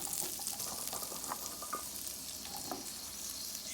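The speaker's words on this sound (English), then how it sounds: "So in the pan I have about a tablespoon of butter, and we're gonna prepare our green beans. I'm gonna add them to the pan." Green beans sizzle and crackle steadily in about a tablespoon of melted butter in a pan, with a dense, even frying hiss and scattered small pops.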